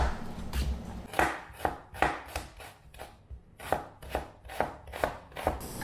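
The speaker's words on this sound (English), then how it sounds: "Slice the onions." Onions sliced with a knife on a cutting board, a steady series of about a dozen crisp, close knocks, each a sharp tap followed by a short gap, heard alone with no voices.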